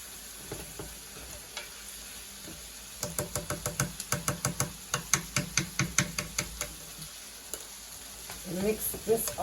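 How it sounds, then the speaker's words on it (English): Chili mixture stirred in a cooking pot, with a spoon scraping and knocking in a quick, steady rhythm of sharp taps against the pot over a light sizzle, louder and denser toward the end. "Mix this all well"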